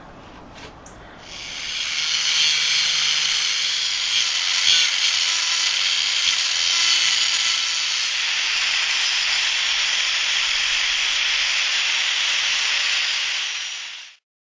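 Steady, loud hissing grind of a power tool cutting 3/16 plate steel around the nose of a knife shape, running continuously for about twelve seconds after a short quieter start, then stopping abruptly.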